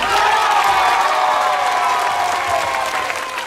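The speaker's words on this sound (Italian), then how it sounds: "facciamoci sentire, grazie, un applauso" Loud, steady applause and cheering from an arena crowd at an Italian K-1 rules kickboxing title bout in the 67 kg class, a dense roar sustained throughout.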